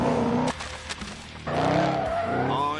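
Tuned American muscle cars in The Grand Tour Game skidding with loud tire squeal and engine roar, a sharp burst, a short lull, then a longer sustained screech.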